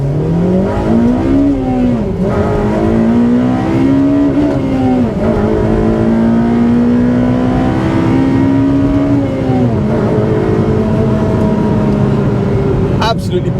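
A Honda Civic Type R FD2 with a K20A engine pulls hard from first gear, its loud, close intake and exhaust note climbing steadily in pitch and dipping briefly at each upshift.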